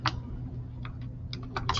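Keys on a graphing calculator are pressed in quick, light clicks, a handful of separate taps spread unevenly over under two seconds, close and clear against quiet room tone.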